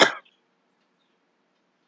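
A single short cough, close and fairly loud, followed by silence.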